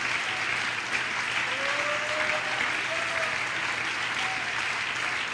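A church congregation applauds steadily, many hands clapping in an even, continuous wash of moderate loudness that holds for the whole stretch with no talk over it.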